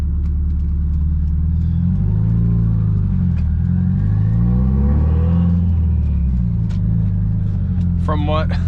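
A car's engine rumbles and builds revs as it pulls out, a steady close drone running the whole time, with people talking from inside the car.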